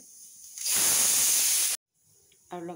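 Potato pieces and spices, garlic, ginger, cumin, cloves, cardamom and cinnamon, sizzling in hot oil, a loud dense hiss that bursts in, holds steady for about a second, then cuts off before a quieter sizzle returns.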